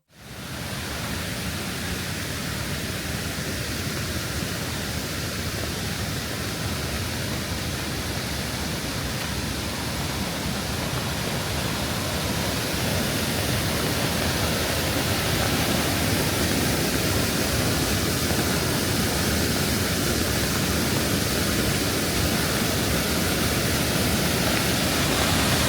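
Giesbach waterfall in Switzerland, a torrent you can walk behind at its lower level, gives a steady, dense roar that runs unbroken and loud from start to finish, with no voices.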